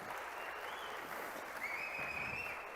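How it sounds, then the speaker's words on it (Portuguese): A church congregation applauds together during a sermon, a dense, steady wash of clapping from many hands at moderate distance, lasting a few seconds without pause. "Você pode dar um aplauso para o Senhor pela sua família?"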